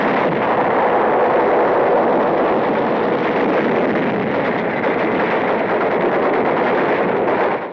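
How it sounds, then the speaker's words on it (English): Dense, continuous battle gunfire from the World War II fight for Tarawa, a loud unbroken roar of shots and blasts with no break or voices. "Jap fire pins us down for hours."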